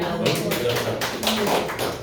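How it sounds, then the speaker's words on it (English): Scattered hand clapping from an audience at a Tea Party meeting in Cypress, Texas, a few close, uneven claps with voices talking over them. "let's give them a round of applause"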